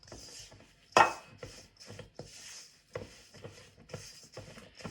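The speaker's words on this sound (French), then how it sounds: "bien mélanger et ne pas hésiter à racler le fond" A utensil mixes peanut cookie dough and scrapes it from the bottom of a bowl in repeated rhythmic strokes. One sharper knock near the start stands out, with close, dry scraping and no talking.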